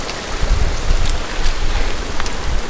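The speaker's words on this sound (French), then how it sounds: "On traverse un petit ruisseau très sympathique." A small mountain stream burbles and splashes nearby, a steady wash of running water with a few brief brighter splashes.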